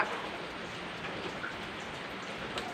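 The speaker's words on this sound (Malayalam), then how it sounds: "നല്ല മഴ" Dense, steady rainfall hissing continuously, a broad even wash of drops with no talking.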